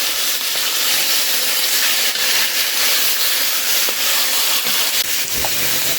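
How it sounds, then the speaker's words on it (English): Beef stew meat sizzles loudly while browning in a pan on the stove, a steady hiss with light scraping as it is stirred. "You're going to want to stir it and brown it on all sides."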